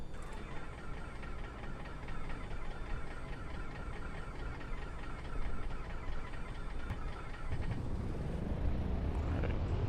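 An Aerostar twin's second aircraft engine cranks and catches, a steady close rumble that swells and grows rougher and louder near the end as it fires up.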